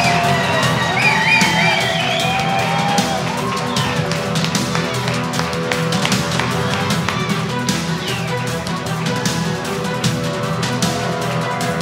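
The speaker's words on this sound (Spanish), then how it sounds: "Ese aplauso, campeones, gracias." Crowd at a dog grooming competition awards ceremony cheers, whoops and shouts over a dense music-like background, a lively continuous roar with high voices rising and falling throughout.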